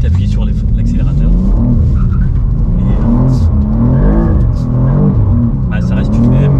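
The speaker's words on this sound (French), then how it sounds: "Donc on m'a dit qu'il fallait mettre la première, appuyer sur DSC off et ensuite appuyer sur l'accélérateur" A BMW accelerating hard from a standstill in first gear with stability control off, its engine rising and falling through loud, close revs, with someone speaking over the engine noise.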